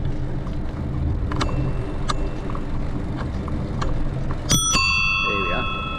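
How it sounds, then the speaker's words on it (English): Bell on a 1984 Raleigh Superbe Holland bicycle rings twice near the end, a bright double ding that lingers over steady riding noise on a railway path; faint earlier tings may also come from the bell. "But I'm going to give you a taste of the old ding dong bell."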